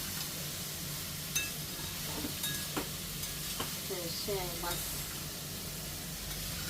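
Onions sauté in a pan with a steady sizzle. Occasional utensil clinks and stirring scrapes sit on top, and faint voices can be heard in the background.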